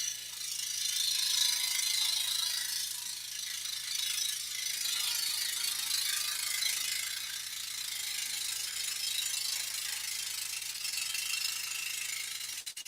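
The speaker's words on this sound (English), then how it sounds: "Flat-ended by Flying Dutchman, and we're using a Hegner scroll saw" A 22-inch Hegner scroll saw running with flat-ended number 5 Flying Dutchman spiral blades, a steady rapid hissing, rattling buzz that holds at an even level, close and without talk.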